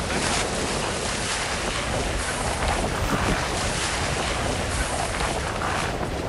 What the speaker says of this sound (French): Oh, le vent en bas!